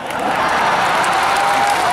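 Large crowd applauding at the NU Muktamar congress, dense sustained clapping that builds quickly and holds at a loud, even level with a faint murmur of cheering mixed in.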